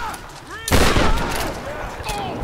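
Gunfire bursts out in the video game Tomb Raider, a sharp loud blast followed by a sustained rattle of shots and explosions, with a player's voice talking over parts of it.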